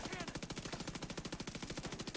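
Rapid automatic gunfire in the video game The Division 2, a steady run of loud, evenly spaced shots filling the whole stretch.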